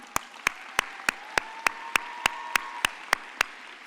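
Audience at an engineering keynote claps in steady, evenly spaced sharp bursts, about a dozen crisp claps in four seconds, with a faint voice or tone murmuring underneath.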